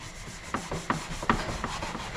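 Sandpaper rubs over the plastic center console of an NA Mazda Miata, a close, soft rasping scuff with a few sharper strokes in a short burst.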